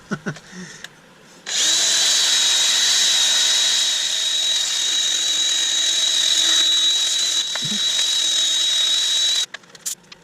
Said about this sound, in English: it would probably help if I put a sanding disc on the front of it as well